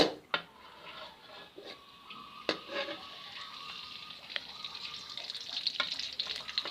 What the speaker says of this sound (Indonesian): selanjutnya kita akan tumis bumbu yang sudah dihaluskan ya teman-teman